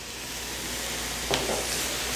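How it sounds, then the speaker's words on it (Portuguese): Chopped large tomatoes go into a pan of well-fried sausage, giving a steady, close hiss of frying with a brief sharper crackle as they hit the hot fat. "agora eu vou acrescentar 2 tomates grandes picados"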